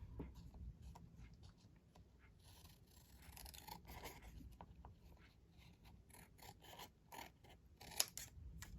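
Scissors snip and trim paper ephemera for an autumn-themed altered book, with a run of close, crisp cutting and scraping strokes that repeat unevenly over a soft background.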